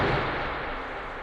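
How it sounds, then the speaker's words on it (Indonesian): A gunshot from a pistol in a gangster film, heard as a loud, dense boom that fills the whole clip and slowly decays without any talk. "ia pun langsung menembak Cyrus dan seketika tewas di sana"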